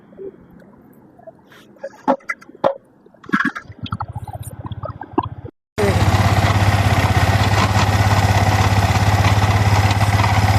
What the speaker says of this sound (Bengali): ইঞ্জিনের নয়েজটা দেখেন আপনারা